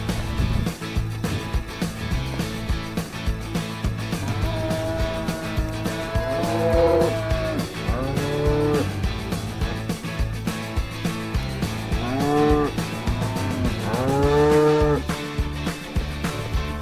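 Cattle in a ranch pen moo repeatedly, several long drawn-out calls rising and falling over a steady background of shuffling hooves and low noise, fairly close and loud.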